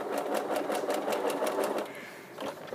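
A sewing machine stitching fabric strips into a quilted bowl, a fast steady mechanical chatter running close and loud before easing off near the end.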